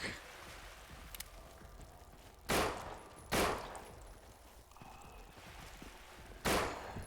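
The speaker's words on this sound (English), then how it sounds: "Gonna have to use my gun here, though. My Glock." Glock pistol shots in the zombie video game No More Room in Hell, three sharp single shots spaced apart over a low, steady background, fairly faint overall.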